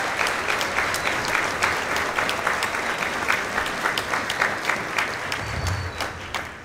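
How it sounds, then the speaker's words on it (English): Applause fills a football banquet for the 2012 varsity team, a steady, dense clapping from a large room that holds level throughout, with a brief low thump near the end. "Give them a big round of applause."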